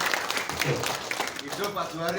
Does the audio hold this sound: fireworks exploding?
no